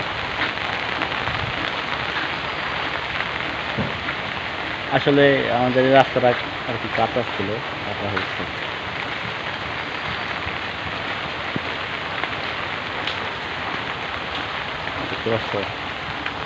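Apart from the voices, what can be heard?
heavy rain falling outside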